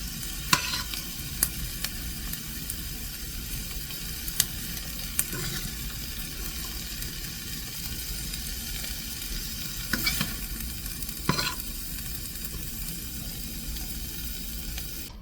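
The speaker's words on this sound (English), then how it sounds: "and then fry all this up" Rutabaga and kohlrabi greens with salt frying and being stirred in a pan, a constant low sizzle broken by occasional sharp scrapes and clinks of a utensil.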